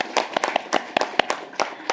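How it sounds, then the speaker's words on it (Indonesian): Scattered hand claps from a small audience at a Sambirejo village forum welcome Pak Wahyu Nugroho, the village head. The claps are close, crisp and uneven over about two seconds. "tepuk tangan untuk Pak Wahyu Nugroho SE"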